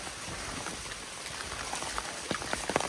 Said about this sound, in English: So here I am in the rain again.